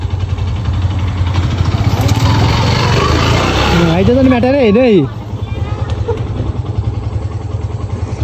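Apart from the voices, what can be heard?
motorcycle engine running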